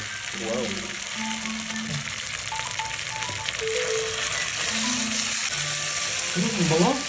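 Buro, fermented rice, frying in a pan with a steady, even sizzle throughout, while voices speak briefly at the start and end.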